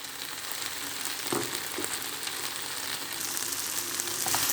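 Chicken fries in a pan with black pepper, cumin and curry powder, a steady sizzle broken by a few clinks and scrapes of stirring.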